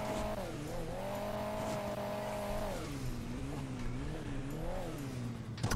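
Engines of racing cars in the game Hill Climb Racing 2 roar and rev continuously, pitch rising and falling with gear changes, with tires squealing on top; synthetic and game-like.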